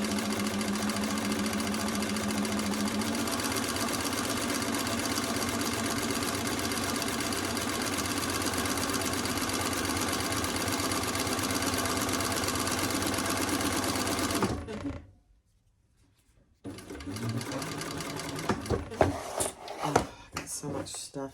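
A sewing machine stitches through cork fabric in a fast, steady mechanical whir close by for about fifteen seconds, then stops abruptly and starts again in shorter uneven bursts. Speech is heard.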